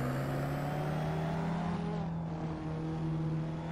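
Exhaust note of the S1 car in the Assetto Corsa racing game, a steady sustained engine drone at constant loudness with no clear revving changes, running alone throughout.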